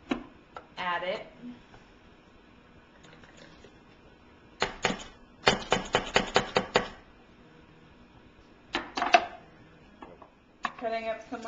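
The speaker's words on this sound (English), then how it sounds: "Cutting up some more onions to put into the blender." A knife slices onions on a cutting board in a home kitchen, coming in quick bursts of crisp taps and thin rapid chops separated by pauses.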